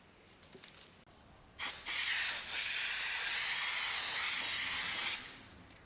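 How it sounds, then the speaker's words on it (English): A few soft clicks and rustles, then a can of spray adhesive sprays in a loud, steady hiss for about three and a half seconds before cutting off. "I used spray adhesive to bind the white stripes."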